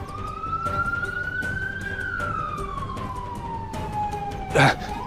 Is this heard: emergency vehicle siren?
yes